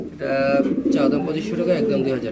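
A grizzle-coloured pair of Sirazi pigeons at a pigeon farm sale coo in low, throaty rolls, close and fairly loud, with someone talking over them.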